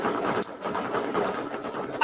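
A sewing machine runs steadily at speed while stitching quilt sashings for a Kimberbell strawberries mini-quilt block, giving a continuous close, busy mechanical whir with no talking.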